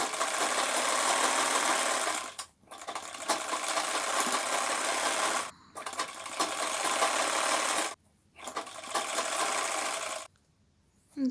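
Sewing machine stitching a kantha cover, a loud steady buzzing run broken by three short pauses and stopping near the end.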